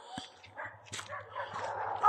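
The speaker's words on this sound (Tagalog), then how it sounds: "Kakahula na ng mga aso." Huskies barking and yipping in short bursts, fairly close, with a low steady hum underneath.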